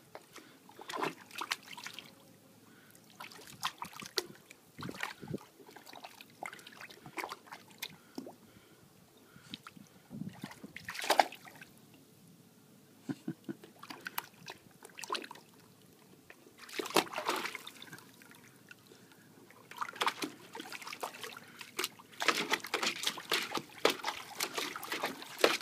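A raven splashes about in pool water, with irregular bursts of splattering and dribbling between quieter moments of trickling and dripping, all fairly near.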